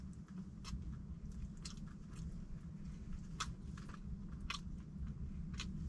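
Someone eats braised pollock during a meal on a highway trip, with quiet, irregular chewing and crisp bites popping up every second or so over a faint low rumble.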